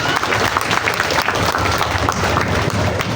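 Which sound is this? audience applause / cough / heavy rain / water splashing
audience applause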